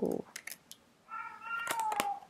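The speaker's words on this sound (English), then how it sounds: "I'm sorry if you hear my cat in the background" A cat meows a few times, drawn-out and fairly close, with a light tap or click nearby and a brief bit of voice at the start.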